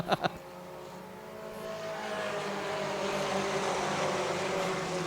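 Four-cylinder race cars circle a short oval track at Brackett's Market, a steady blended engine drone under faint commentary, opened by a couple of sharp bursts before settling into continuous laps.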